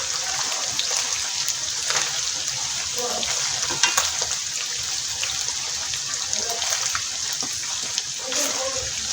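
Chicken pieces frying for a restaurant-style white karahi, a dense continuous sizzle with intermittent scrapes and clatters of a spoon stirring in the pan, close and moderately loud, with no talking.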